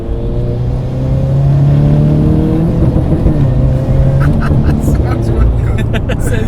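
A loud turbocharged Toyota GT86 engine with an HKS turbo kit drones at steady high revs, held on the rev limiter with a rough, stuttering limiter crackle; a voice talks briefly over it.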